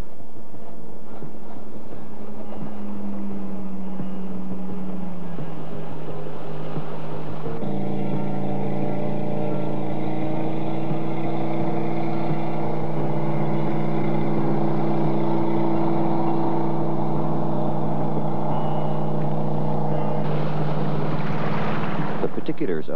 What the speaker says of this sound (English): Standard propulsion system, shown here, is the waterjet V8 gas.